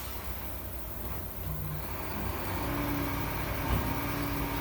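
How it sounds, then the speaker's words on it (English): A garbage truck passes with a broad, steady engine rumble that grows slightly louder partway through, its low drone continuous and fairly loud without any voices. "It's the garbage truck"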